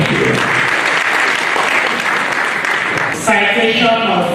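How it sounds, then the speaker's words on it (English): A keynote audience at an engineering event claps loudly in a sustained round of applause, with a brief dip near the end as a voice comes in over the last of the clapping. "The round of applause for her, please."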